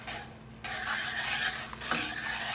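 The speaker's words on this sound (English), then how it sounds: "Now you can hear it sizzling." Butter and mushrooms sizzle in a pan for a creamy chicken marsala, a steady close crackling hiss with light stirring and a brief utensil scrape near the end.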